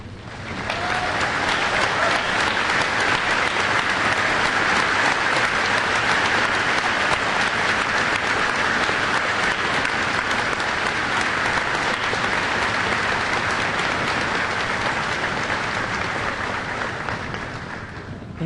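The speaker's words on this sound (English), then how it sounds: "so that they may give you a round of applause." At a college commencement ceremony, a large audience applauds faculty and teaching staff with dense, sustained clapping that holds steady for about eighteen seconds before tapering slightly at the end.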